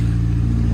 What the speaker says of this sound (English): the exhaust, this is what it sounds like at idle